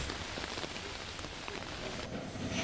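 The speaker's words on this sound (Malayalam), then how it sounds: "കാസർകോട് അതിശക്തമായ മഴയും ഒപ്പം ചുഴലിക്കാറ്റുമാണുള്ളത്" Heavy rain pours down steadily in Kasaragod, Kerala, during a storm, a dense continuous hiss of drops hitting surfaces close by.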